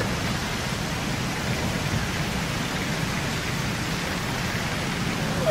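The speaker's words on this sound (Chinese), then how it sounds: "怎么会这么大的雨啊？" Heavy rain pours down in a steady, dense hiss with a low rumbling undertone, loud and unbroken from start to finish, with no voices heard.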